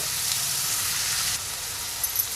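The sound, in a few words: onion with curry leaves sautéing in a pan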